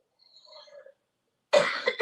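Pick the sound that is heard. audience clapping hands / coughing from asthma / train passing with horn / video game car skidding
coughing from asthma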